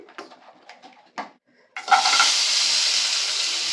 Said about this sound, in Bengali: সসপ্যানটা গরম হয়ে গেছে, এবার এখানে দিয়ে দিচ্ছি তেল।